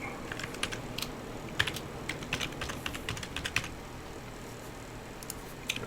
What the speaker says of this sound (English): Oh boy, you got to do a lot of typing.